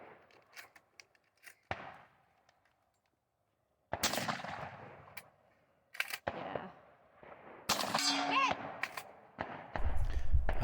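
Shotgun firing slugs during a shooting competition stage, with sharp loud reports spaced irregularly between quieter handling noises, close to the shooter, ending in a burst of activity.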